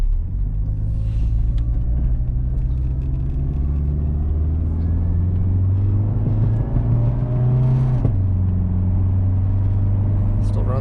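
Turbo Woody Wagon, a car over 30 years old, driving around the block: a steady low engine rumble and whir from inside or close by, with gear changes and slight revving as it moves.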